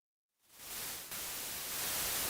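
A synthesizer's white noise swells in from silence into a loud, steady broadband hiss that holds and brightens slightly, with no voice.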